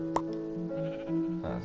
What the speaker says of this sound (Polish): Musimy rozmnożyć owce.